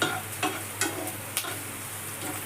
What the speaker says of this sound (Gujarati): જો ડુંગળીને મરચાં ચડે છે તેલમાં